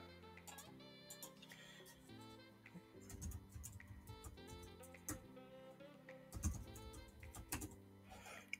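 Password being typed on a computer keyboard while a MikroTik cloud router account is set up: a steady run of light, close key clicks with short pauses, no talking.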